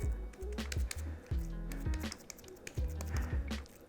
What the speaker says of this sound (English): you can turn it into these little balls and you can mash it into a little patty